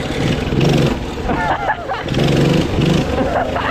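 Cheap $100 minibike engine revving hard during a wheelie, a buzzy small-engine whine rising and falling, close by, with excited voices talking over it.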